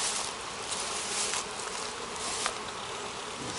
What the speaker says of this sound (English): This is what it looks like inside of a busy, productive beehive.